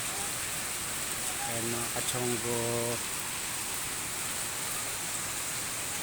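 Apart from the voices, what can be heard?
heavy rain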